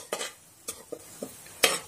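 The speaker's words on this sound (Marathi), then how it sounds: "या पद्धतीने काजू मी इथे फ्राय करून घेतलेले आहेत" Cashews being fried in oil in a pan for vegetable pulao, heard as a few sharp spoon stirs and scrapes against the pan, with a soft sizzle underneath between the strokes.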